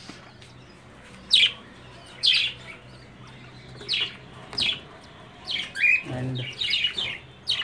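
Newly hatched cockatiel chick being raised under lovebirds, giving short high chirping calls in a steady series of about eight bursts, fairly close, over low background hum.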